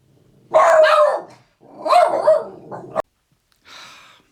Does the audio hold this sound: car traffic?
no